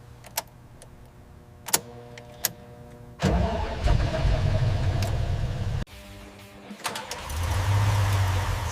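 A 1971 Datsun 240Z's six-cylinder engine cranks briefly with a few clicks, catches and roars to life, dips, then settles into a steady idle, loud and near.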